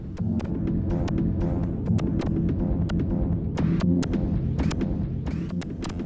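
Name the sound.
synthesizer drone noise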